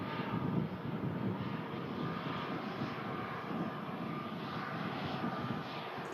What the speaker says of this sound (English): British Airways lined up for London Heathrow as the Brussels A320 Neo vacates in front of us.